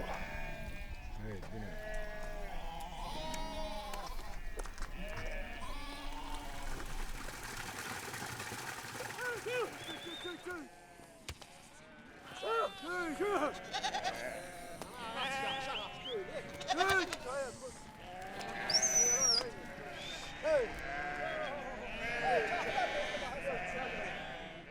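A flock of sheep on the move in Georgia bleats repeatedly, many overlapping near and distant calls, with voices talking at times among them.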